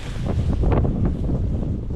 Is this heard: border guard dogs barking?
no